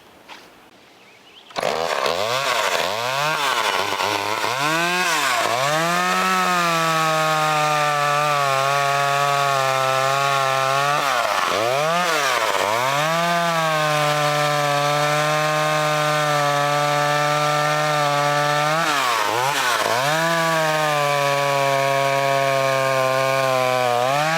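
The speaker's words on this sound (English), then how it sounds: "I'll finish cutting this up and then we'll come back and we'll cut up a bigger piece of wood over here." A vintage Frontier chainsaw cuts through wood, its engine roaring loud and close after a brief quiet start, with the pitch repeatedly dipping and rising as the saw bogs into the cut and revs back up. No one speaks.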